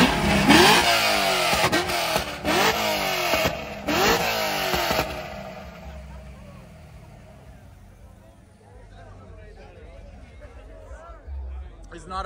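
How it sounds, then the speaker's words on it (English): A car engine revs hard at a car show in a quick series of loud, rhythmic throttle blips over the first few seconds, then settles into a lower, quieter idle, with voices from the crowd around it. "All right, go, rev it."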